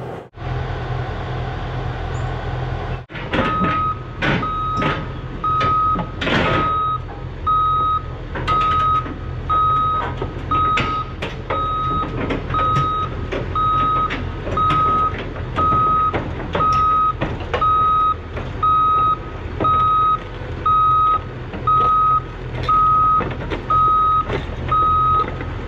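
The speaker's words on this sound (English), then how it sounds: "Successfully got that dozer across the road now" A Cat D5 dozer crosses a road as a steady, loud reversing beeper pulses at a regular rhythm over the continuous low rumble of its diesel engine, with intermittent clanks and track rattle throughout.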